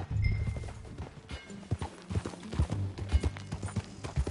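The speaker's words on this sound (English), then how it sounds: "That a new horse?" Horse hooves clip-clopping in Red Dead Redemption 2, an irregular run of soft thuds over low rumbling game ambience, fairly close and moderately loud with no talk.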